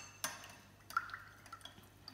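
Sunscreen being stirred into water produces faint clinks and small liquid drips and sloshes, a few sparse taps against a container in a quiet room.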